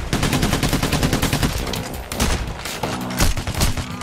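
Dense bursts of gunfire from the heist shooter Payday: The Heist rattle continuously for four seconds, rapid overlapping shots close and loud with no talk.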